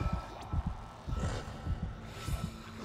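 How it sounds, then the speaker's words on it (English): A heartbeat sound effect from the Dead Space video game thumps low and steady in quick paired beats, with a faint hum beneath and no voices. "Your heartbeat's going a bit better"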